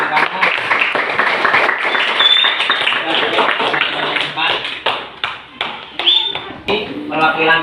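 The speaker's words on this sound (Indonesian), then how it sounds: "kita beri tepuk tangan" A classroom of students applauds after a presentation, a burst of brisk, uneven hand clapping close by, with voices talking over and among the claps.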